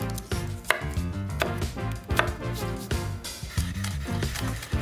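Knife chopping shallots and garlic on a cutting board while preparing a Champagne sauce, with repeated sharp taps in an uneven rhythm over steady background music, close and moderately loud.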